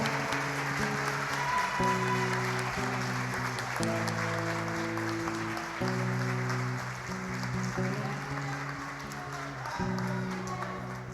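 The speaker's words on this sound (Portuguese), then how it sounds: "aplauda ao Senhor, querido" A congregation at a family celebration church service claps steadily over sustained organ or keyboard chords that shift every couple of seconds, heard at a moderate distance.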